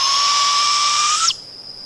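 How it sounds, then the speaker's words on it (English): Female barred owl calling for a mate, heard as one sustained, loud, screechy call that cuts off abruptly, leaving a faint lingering tone. "That's the sound of a female barred owl calling for a mate."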